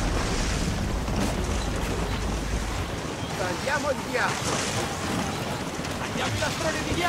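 Ship breaking through pack ice in Assassin's Creed Rogue, a steady loud rush of water and grinding wash with wind noise throughout, heavier low rumble in the first three seconds.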